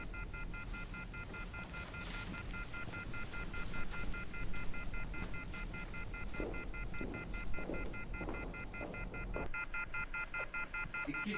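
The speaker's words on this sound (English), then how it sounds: "Sounds like the telephone is off the hook." A telephone left off the hook in the murder-mystery comedy Clue, giving a steady stacked electronic tone that holds unbroken and fairly loud above a low background rumble throughout.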